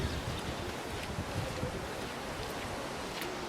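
Floodwater rushes down a normally dry watercourse in Morocco, a steady, dense roar that fills the whole stretch without a break, loud and close with wind buffeting the microphone.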